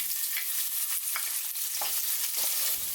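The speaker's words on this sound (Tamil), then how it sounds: "கடுகு உடைஞ்சதும் அதில் 3 பச்சை மிளகாய் சேர்த்துக்கோங்க." Green chilies and mustard seeds frying in hot oil, a steady close hiss of sizzling with a few sharp crackles and spatters popping out, no voices.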